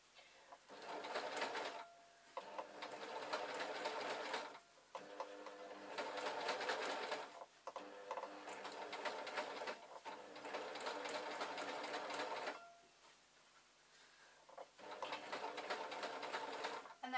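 A sewing machine stitches a seam on a summer wrap dress in steady bursts of rapid mechanical whirring, stopping briefly between runs, close and clear with no talking.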